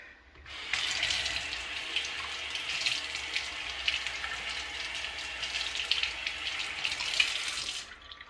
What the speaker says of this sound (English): let me get over here and rinse this spoon out and dry it